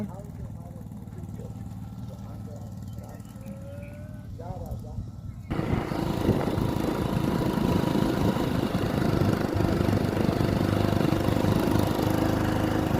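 A quiet outdoor stretch gives way to a loud, steady motorbike engine roar that runs close by to the end, on a hill road at Mini Pavagadh, Bhatvas, Satlasana taluka.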